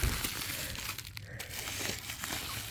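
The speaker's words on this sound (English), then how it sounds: "time to take it out from the foil, protective packaging, and attach it to the bike" Protective foil packaging crinkles and crumples as it is pulled off Royal Enfield Himalayan 411 panniers outdoors on a warm day, a steady close rustle with a few sharper tearing rips.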